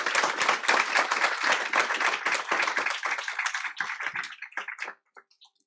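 Audience applause at a school district board meeting honoring employees, a dense burst of many hands clapping that thins out after about four seconds into a few scattered claps before stopping.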